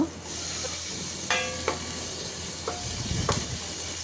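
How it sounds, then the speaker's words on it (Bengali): Prawns and onion fry in a pan with a steady, close sizzling hiss, broken by a few light metallic clinks of stirring and no talking. "প্রথমে পেঁয়াজ দিয়ে কয়েকটা চিংড়ি মাছ দিয়ে ভেজে নিচ্ছি"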